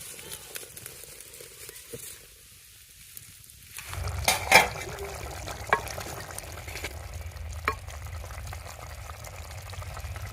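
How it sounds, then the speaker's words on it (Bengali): Mourala fish curry simmers covered in a clay pot on a stove, a steady low bubbling hiss with a few faint lid and pot clinks, moderately quiet throughout. "এভাবে আমি পনেরো থেকে কুড়ি মিনিটের মতন ঢাকা দিয়ে ফুটিয়ে নেব"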